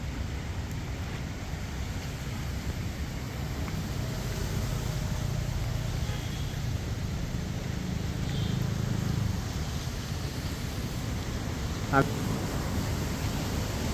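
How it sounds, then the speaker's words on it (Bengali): Heavy rain pours down at Hatirjheel lakeside in Dhaka, a steady, dense wash of hiss that holds evenly from start to finish. "খুব বৃষ্টি হচ্ছে, খুব পানি পড়ছে।"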